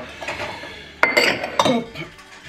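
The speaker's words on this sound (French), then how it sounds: "je suis descendu pour ranger de la vaisselle, la cuisine et tout ça" Dishes and cutlery being put away in a home kitchen: two sharp clinks and clatters of crockery and silverware over a soft background rustle, close by, with no talk.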